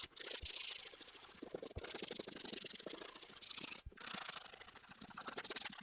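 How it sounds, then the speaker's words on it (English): A dirty boot scrubbed with a CleanKicks shoe cleaning brush and foam, giving close, fast bristly scratching in bursts with short pauses between them, no voices. "I'm going to do some more scrubbing there"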